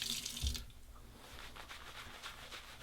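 Water from a sink tap splashes briefly over a shaving brush being wetted, a short bright rush at the start followed by soft trickling and faint dabbing sounds, close by and quiet.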